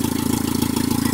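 A rebuilt 16-valve engine in a 1996 Geo Tracker, with a cracked stock manifold and an aftermarket K&N cone filter, idles close by in a steady, even pulsing rumble with no voices.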